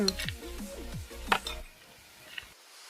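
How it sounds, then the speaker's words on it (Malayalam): Tomato and capsicum stirred in a pan for chicken biryani, with a few metallic clinks and scrapes of a spoon over a soft sizzle, close by, fading to near quiet at the end. "നന്നായിട്ട് ഇളക്കണം കേട്ടോ."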